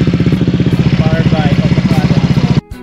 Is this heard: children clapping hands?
no